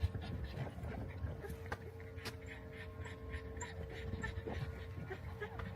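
A dog pants and gives soft whimpers and small yips near a pet carrier, the breathing quick and close, with brief sharp knocks and faint background voice at times.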